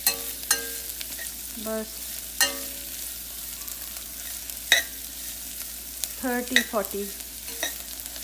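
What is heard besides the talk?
stir-frying sprouted fenugreek seeds and rice in pan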